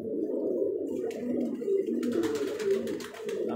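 Pigeons cooing on a rooftop after being released, a steady overlapping run of low throaty coos close by with no talk.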